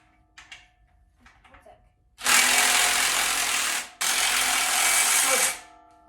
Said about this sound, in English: So we're going to tighten up these bolts.